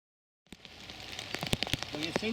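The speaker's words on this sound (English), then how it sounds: "I'll just string a tarp up now because it is starting to rain" Rain falling in winter woods onto a tarp, irregular close drops pattering and tapping against the sheet after a silent start, with a soft steady wash beneath.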